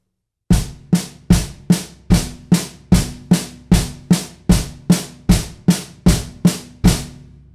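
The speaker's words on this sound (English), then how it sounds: "let's do the double stroke now" Drum kit rudiment of evenly spaced double strokes, each sharp hit decaying quickly, with a bass drum note under the opening stroke; about fifteen loud, close strokes in a steady rhythm with no talking.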